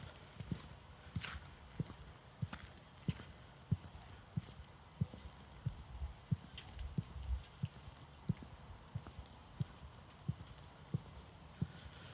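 Steady footsteps of one person walking outdoors under a wind muff, a regular series of soft, close thuds with faint background hiss and no talking, picked up on a Maono Wave T5 wireless mic with noise reduction on.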